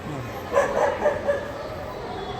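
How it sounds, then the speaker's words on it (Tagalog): A few short dog barks or yips at moderate distance, rising briefly over a background of muffled voices and room noise. "Ayun ang aso."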